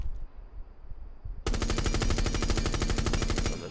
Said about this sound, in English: And now let's shoot 2 mags in the middle.